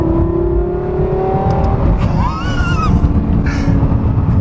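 A Lexus LFA supercar revs, its engine note climbing and falling in a quick sweep over steady road and wind rumble, heard from inside or close by.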